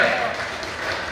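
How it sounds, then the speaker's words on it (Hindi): A brief burst of audience applause rises at a Mukut Saptami ceremony offering the Nirvana laddu at Swarna Bhadra Kut, a dense, even patter of many hands clapping together. "जोरदार तालियों से उनका स्वागत करें।"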